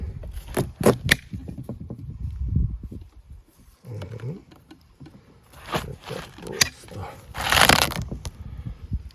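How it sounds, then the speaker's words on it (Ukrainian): A knife cutting into a Yummy watermelon: crunchy cracking and scraping bursts, close and fairly loud, with a crisp tearing rush near the end and brief voice sounds between cuts. "І при розрізанні звучить непогано."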